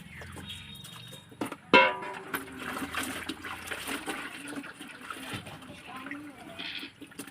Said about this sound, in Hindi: आब ओकरो धो लै छियै जल्दीसँ